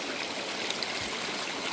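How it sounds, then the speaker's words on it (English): A stream runs steadily close by, a dense, even rush and trickle of water filling the brief moment with no voices. "there's a bunch of running water"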